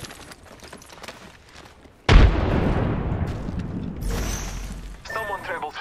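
A grenade bursts in the tactical shooter game Breach and Clear: one sudden, loud, close blast that rumbles and decays over several seconds, following quiet background sounds and indistinct in-game voices.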